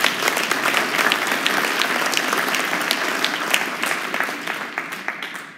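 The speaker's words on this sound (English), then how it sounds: "First of all, an applause for Lindsay Lowe." A room full of people gives a warm round of applause at a panel discussion on young Americans' mental health, the clapping full and close at first before thinning into scattered claps and fading out.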